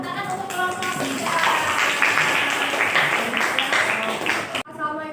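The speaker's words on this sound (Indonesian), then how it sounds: "Ya, tepuk tangan untuk kelompok 3." A classroom group claps for group 3 after a presentation, a dense burst of hand claps that swells and then cuts off, followed by a few trailing claps.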